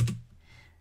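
A single close keystroke on a computer keyboard, a quick click that fades into quiet.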